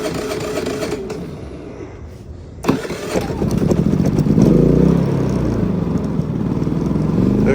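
A portable power generator's small gas engine catching after being choked: a quiet stretch, a sharp pull at the start, then a loud steady running rumble that settles into an even idle.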